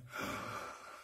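A sharp, audible breath drawn in during a spoken rhythm exercise of syllable counting and clapping, practicing sixteenth-note offbeats and dotted eighths; a single quick inhalation close to the microphone, lasting under a second with no speech.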